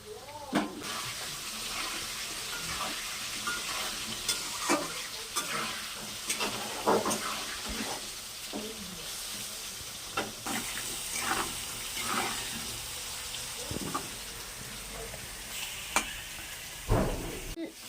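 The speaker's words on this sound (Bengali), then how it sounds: "আলু ভাজা হয়ে গেছে" Potatoes fry in a pan with salt and turmeric, a continuous sizzle broken by repeated scraping stirs and a few clattering knocks of a utensil, up close with no talk.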